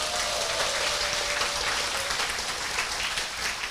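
A large seminar audience claps together in strong, continuous applause, a dense wash of hand claps that holds steady at full volume throughout.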